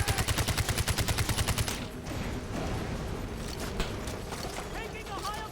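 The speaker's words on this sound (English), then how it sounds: "I'm on the machine gun!" Machine gun fire in the Far Cry 4 shooter game: a rapid, evenly spaced burst of about fifteen shots opens the moment, then gives way to dense battle noise with scattered further shots and distant shouting voices.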